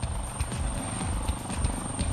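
An AgustaWestland AW139 helicopter in flight gives a steady, close rotor thump and turbine drone with a high whine, continuous and alone without voices.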